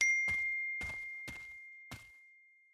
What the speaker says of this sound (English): That sounded like my phone pinging.